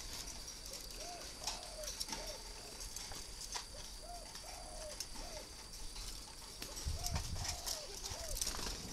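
Young breeding doves (chim cu) kept in cages give repeated soft, low cooing calls in a steady rhythm, close and fairly quiet, with faint clatter and a brief low rumble near the end.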